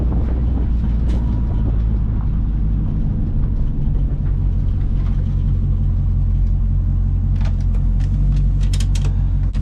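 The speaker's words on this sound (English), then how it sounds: "let me turn it off because the car's too dang loud" A loud drag racing car engine idles steadily and close at Texas Motorplex, a heavy, continuous rumble that fills the whole stretch with no pauses.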